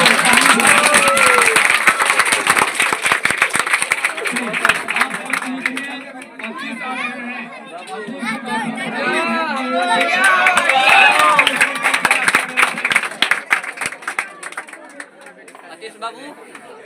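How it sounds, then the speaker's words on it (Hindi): A crowd at a board office gathering for class 10 and 12 toppers' results claps in dense, loud bursts, mixed with chatter and voices talking over the applause. "भाई सबको अच्छा लग रहा है तो जोरदार ताली बजा दो।"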